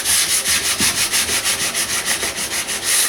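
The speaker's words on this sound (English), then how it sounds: "This is the rudder, started rubbing it down." A varnished wooden boat rudder is being rubbed down by hand indoors, giving rapid, even back-and-forth abrasive strokes at about four or five per second, loud and close with no voices.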